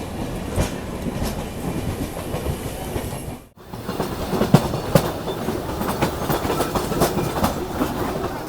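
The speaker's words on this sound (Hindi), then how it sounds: "ये लो भाई हावड़ा के शान, हावड़ा लोकल।" A Howrah local train rushes past close by, loud rumbling with rhythmic wheel clatter and a brief dip in sound as it goes by.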